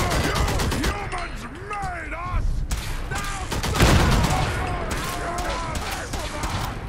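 Rapid bursts of heavy gunfire from a big gun in the video game Fallout 4, dense and continuous with loud booming impacts, mixed with whistling, warbling game effects and voices talking underneath.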